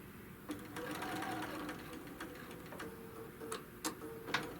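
A sewing machine runs briefly while stitching a quilt seam on a five-yard quilt, a close, quiet ticking hum with a few sharper clicks near the end.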